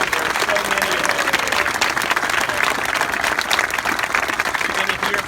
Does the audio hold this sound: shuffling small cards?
no